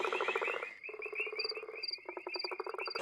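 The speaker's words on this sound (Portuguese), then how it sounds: "Esse daqui é aquele untanha, aquele que come, come os outros sapinhos." An intanha frog, a Brazilian Amazon horned frog that eats other frogs, calls with rapid pulsed croaking trills in repeated bursts, loud and close, with high insect-like chirps behind.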